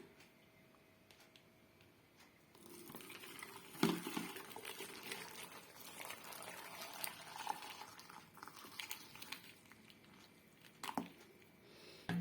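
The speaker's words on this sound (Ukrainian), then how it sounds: "В каструлі закипіла вода і заливаємо її в наші банки, тобто паримо наші помідори." Boiling water is poured into jars of tomatoes for canning, a soft, faint splashing and pattering stream with small clinks, lasting several seconds, no speech.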